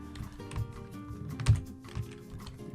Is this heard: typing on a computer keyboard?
yes